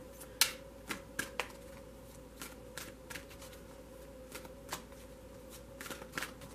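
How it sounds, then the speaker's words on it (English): Tarot cards are shuffled by hand in a series of quick riffling bursts and soft snaps, irregular and close, with small gaps between shuffles in a quiet room. "when I'm shuffling these, I look up because I don't want to see what's on the cards"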